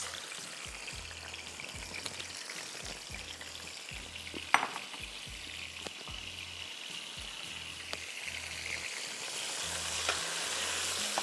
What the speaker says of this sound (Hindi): हाफ कप आपने ऑयल डाल दिया और इसमें आप टमाटर शामिल कर दीजिए।